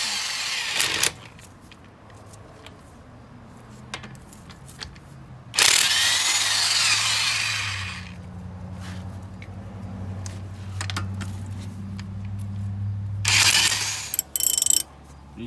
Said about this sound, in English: using the ratchet and anything, we're gonna take off the top one first